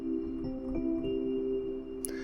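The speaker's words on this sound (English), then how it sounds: "It's just like a nice Rhodes piano with no effects" A Morning Rhodes electric piano preset from Analog Lab 5, dry with only its built-in reverb, sustains a mellow held chord with a soft bell-like tone, steady and close, ending in a brief bright click.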